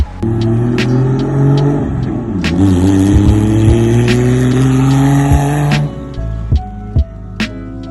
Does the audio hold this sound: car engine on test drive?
yes